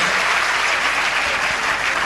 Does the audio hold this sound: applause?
yes